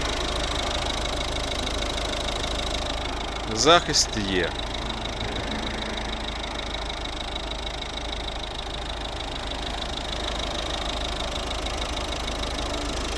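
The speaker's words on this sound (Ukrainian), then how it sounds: "Ось робота двигуна." A steady engine idles throughout in a 2010 Volvo V50 with a 1.6 D2 diesel, with a brief short burst of speech partway through.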